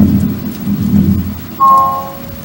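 A thunderstorm with heavy rain on a Jurassic Park tour, where a low rumble of thunder rolls under steady rainfall before a sharp, brief tonal chime cuts in near the end.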